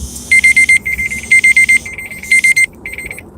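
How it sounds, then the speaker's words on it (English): Electronic alarm beeping in short rapid bursts, four quick pulses per group repeated three times, loud and close with no talk over it. "it's one of my daily alarms."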